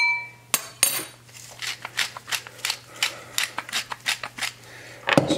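Two eggs being whisked in a bowl with a utensil, a quick series of repeated clinking and scraping taps against the bowl, close and clear with no talk, preceded by a couple of sharper knocks.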